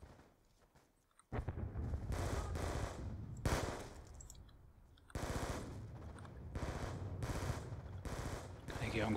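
Rapid automatic gunfire in the video game Call of Duty: Black Ops 2, bursts of loud crackling shots repeating across the stretch with brief gaps, with occasional speech mixed underneath.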